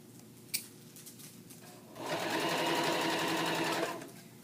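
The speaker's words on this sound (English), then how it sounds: "and then you can continue sewing" A home sewing machine stitches knit fabric for a cuff, running steadily for about two seconds after a brief quiet pause with a small click, then stopping.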